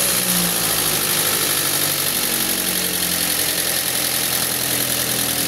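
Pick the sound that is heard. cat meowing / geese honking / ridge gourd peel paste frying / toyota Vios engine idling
toyota Vios engine idling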